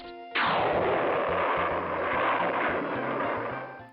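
A loud, sustained jet roar from the Magic School Bus Rainforest video game starts abruptly after a short tone and holds steady for several seconds, with a faint repeating game tune underneath.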